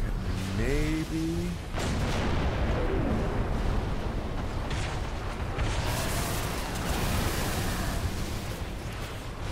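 Heavy weapons fire and explosions in Halo 3 on the mission The Storm, a continuous roaring barrage of booms and rumbling blasts, with brief electronic tones near the start.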